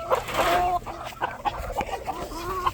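Freedom Ranger chickens cluck in a busy, continuous chatter, with ducks nearby, close and fairly loud throughout.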